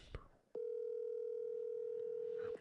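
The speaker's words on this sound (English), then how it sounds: "I want to point out something as I was dialing there" A telephone line gives a brief click, then a single steady tone holds for about two seconds before cutting off, close and clear, with faint talk underneath.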